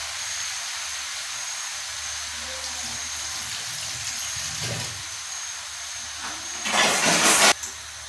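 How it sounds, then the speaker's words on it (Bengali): Chicken fries in a covered pan over low heat, giving a steady, soft hiss that swells into a louder burst of steamy sizzle near the end. "এইভাবে আমি আস্তে আস্তে ঢাকা দিয়ে দিয়ে আমি এটাকে ভালো করে ভেজে নেব।"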